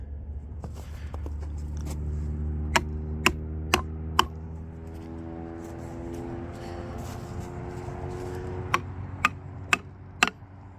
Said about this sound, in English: So I'm gonna tap those two wedges that I just placed in.